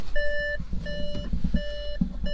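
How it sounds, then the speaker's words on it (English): Repeated electronic car warning beeps, each a steady two-tone chime lasting about half a second, sounding in a regular pattern over low engine rumble. "hopefully it's not going to beep the whole time"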